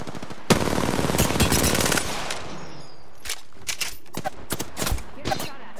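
Automatic weapon fire in the Apex Legends battle royale game bursts in a dense rapid stream for about two seconds, followed by scattered single shots and short bursts, loud and close.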